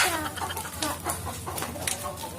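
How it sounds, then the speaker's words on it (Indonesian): A chicken clucks in short repeated bursts close by, outdoors in a yard, with a low background hum and no speech. "Wah, ada ayam."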